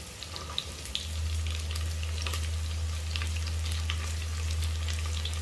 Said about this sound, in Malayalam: ഇതിലേക്ക് കൊച്ചുള്ളിയും സവാളയും അരിഞ്ഞത് ഞാൻ ഇട്ട് കൊടുത്തിട്ടുണ്ട്